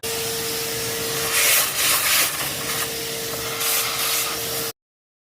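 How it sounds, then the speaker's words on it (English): A vacuum nozzle sucks dirt and debris from around the coil packs of a 2.5L Skyactiv-G Mazda engine, making a steady close hiss with a few brief rushing surges before it cuts off abruptly. "I'm just gonna take the time to suck out any dirt or debris that's in here, so we don't have any of that going down into our cylinders"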